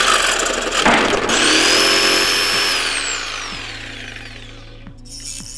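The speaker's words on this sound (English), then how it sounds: "For this, a Dremel is mandatory." A Dremel rotary tool fitted with a metal cutting disc grinds through small metal bars on the back of a Zynthian enclosure, giving a loud, steady high-pitched whine and grinding screech that slowly drops in pitch as it bites, then eases off.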